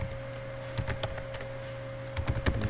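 Fingers type on a computer keyboard in short irregular bursts of clicky keystrokes, close and fairly loud over a steady electrical hum, with pauses between the bursts.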